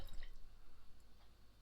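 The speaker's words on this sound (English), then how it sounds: "I'll just pour myself a drink." Homebrewed Black Rock pale ale from an extract kit poured into a glass, a close, gurgling trickle with soft fizzing and dripping.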